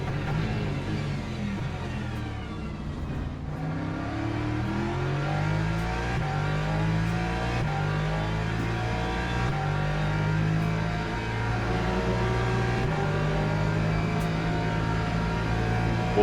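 GT3 cars and hypercars race at Spa in the LMU racing video game, several engines droning and revving together, pitches climbing and dropping through gear changes as cars pass, steady and loud throughout.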